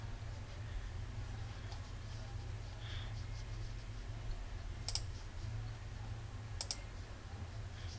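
A computer mouse clicked on a Show button, two sharp faint clicks standing out against steady low room hum.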